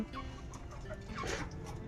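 Two or three Sonali chickens on a rooftop give soft, intermittent clucks, quiet and fairly close, with short bursts scattered through a brief stretch.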